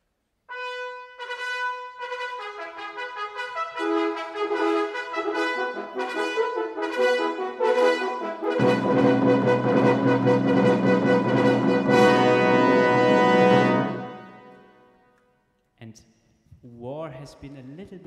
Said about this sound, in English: suddenly this peaceful scene here is interrupted by the military trumpets back there.